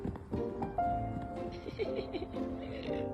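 An old, blind horse whinnies in a high, wavering call over background noise and faint movement, with a second shorter neigh following.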